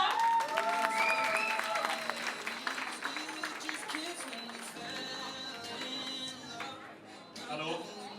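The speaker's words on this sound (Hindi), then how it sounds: "जरा तालियां बजा दो जोरदार" Sustained applause from a crowd at a 25th wedding anniversary celebration, dense and steady at first then gradually thinning, with voices and chatter mixed in throughout.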